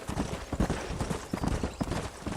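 Horse hooves galloping in Red Dead Redemption, a rapid, continuous drumming of clip-clop hoofbeats on the ground, close and steady with no talk over it.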